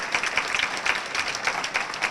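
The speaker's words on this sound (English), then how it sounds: "Let's give them a round of applause." A room of guests at a Chamber of Commerce awards dinner applauds the aldermen, a dense, even patter of many hands clapping steadily throughout.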